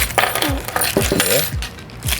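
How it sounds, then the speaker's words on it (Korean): Bolts and nuts being removed from a portable goal frame used for roller-skating training, with repeated close metallic clinks and rattles. "선생님은 여기 그 볼트하고 너트를 제가 빼보겠습니다."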